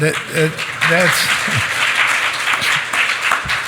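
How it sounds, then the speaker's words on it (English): Broad crowd applause at a panel discussion swells after a brief spoken phrase and continues steadily, dense and fairly loud, with a few voices mixed in. "I feel like applauding for that comment."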